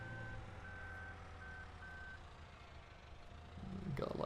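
A telehandler on a farm sounds its reversing beeper, a handful of steady tonal beeps at moderate distance over a low engine rumble, with a louder clatter at the end.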